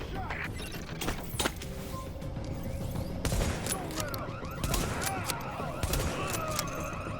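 Rapid bursts of gunfire crack repeatedly over a dense, busy battle din in the video game The Division, with sharp shots and some crashing impacts throughout.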